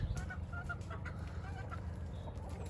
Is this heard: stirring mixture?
no